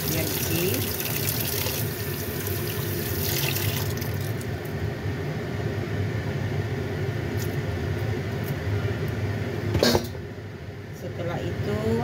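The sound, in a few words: rinsing tofu under running tap water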